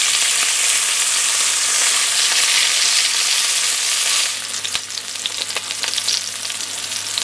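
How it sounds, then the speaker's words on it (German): Meat fries in hot oil in a pan, a loud, close, continuous sizzle that turns more crackly and spattery partway through as the meat is turned. "ins Öl gegeben und habe dann das Fleisch hinein. Und eine Minute pro Seite."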